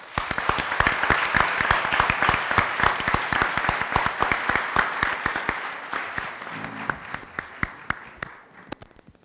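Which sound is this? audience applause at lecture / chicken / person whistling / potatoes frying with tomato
audience applause at lecture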